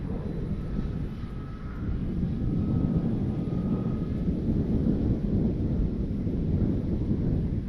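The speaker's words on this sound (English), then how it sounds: "Boy, is it windy though." Strong gusts batter an outdoor microphone at an RC flying field, a dense continuous low rumble and buffeting with a faint distant propeller drone underneath, no voices.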